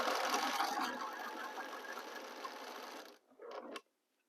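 A sewing machine stitches quilt pieces together at a 1/4 inch seam, a fast steady whirring hum running for about three seconds, then stopping before a short final burst, quiet and alone.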